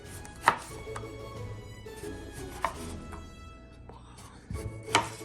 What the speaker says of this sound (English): Step 1, cut up the oranges in nice slices